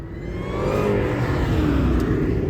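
A car engine roars loudly as the vehicle speeds past close by at an illegal street race, its pitch sliding as it goes, with no talking.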